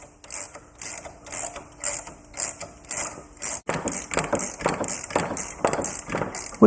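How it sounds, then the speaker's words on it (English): Ratcheting wrench turning a front wheel bearing nut on a Yamaha Big Bear 350 ATV, rapid rhythmic clicking in repeated strokes, close and loud, no talking. "What did we ever do before ratcheting wrenches?"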